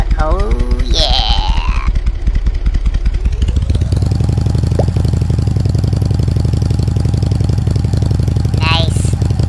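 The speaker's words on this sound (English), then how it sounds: "Hear that throaty rumble of my mighty Harley Davidson." A Harley Davidson motorcycle engine in the Roblox game Bloxburg gives a loud, continuous, throaty rumble with a rapid pulsing beat that rises in pitch and then holds steady. Short higher-pitched voice sounds break in near the start and the end.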